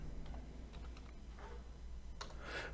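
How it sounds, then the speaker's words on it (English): Keys tapped on a computer keyboard entering a part number, a few scattered soft clicks over steady low room hum, quiet and close. "So let's just type in a pot number."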